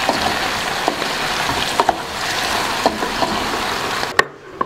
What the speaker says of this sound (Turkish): Arada fasulyemizi karıştıralım.